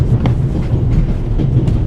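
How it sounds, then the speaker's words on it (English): In The Raven Remastered, a train rattles along on the Orient Express with a loud, continuous low rumble and periodic clacking bursts of the carriage over the rails, heard close from inside with no voices. "The noise on this train is driving me crazy."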